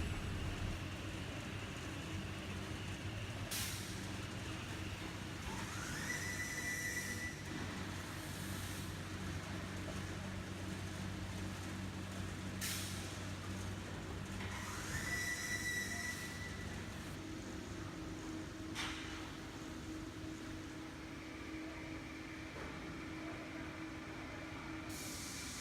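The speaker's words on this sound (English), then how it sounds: "After cutting, the MgO board will be transported into the cage vehicle automatically." Continuous mechanical rumble and hum of an MgO board production line cutting panels and conveying them into cage vehicles, with a few sharp hissing, squealing bursts rising over the steady machinery drone.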